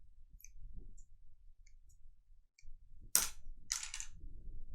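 Scissors trimming sewing thread, a couple of crisp close snips after a stretch of quiet handling and faint ticks, with soft rustling continuing afterward.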